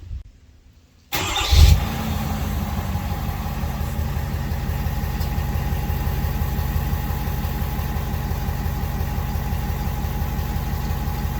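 A 2022 Ford F-350 pickup's 6.7 Powerstroke diesel, with a 5-inch AFE stainless steel DPF-back exhaust, cranks and catches with a short burst, then settles into a steady low, rumbling idle that continues without pause.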